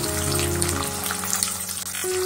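Chopped onion dropped into hot oil for a village-style Maharashtrian mushroom masala, frying with a steady watery hiss and bubbling that holds at an even level throughout, close by with no talk.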